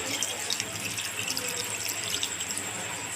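Water poured from a pot into a simmering chicken curry in a village-style home kitchen, a steady, close hissing splash that runs unbroken for a few seconds with no one speaking.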